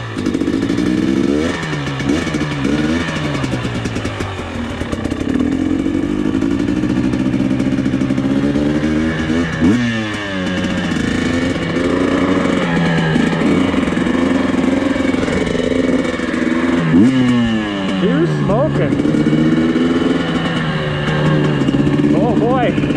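A KTM 250xc two-stroke dirt bike on a track revs loudly and close by, its pitch repeatedly sweeping up and dropping back. A person talks over the engine in places.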